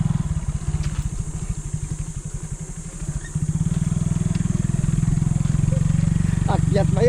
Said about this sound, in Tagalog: Akyat sa bundok ang motor ah.